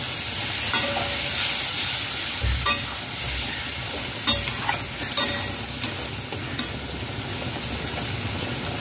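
Food with coconut paste stirred in a frying pan, with a steady close sizzle under intermittent scraping and clacking of the spoon against the pan, and no voices.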